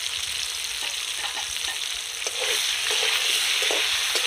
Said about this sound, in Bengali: দিয়ে আলুটা একটু ভালো করে ভেজে নেব।